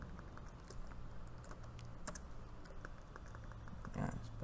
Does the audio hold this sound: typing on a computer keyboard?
yes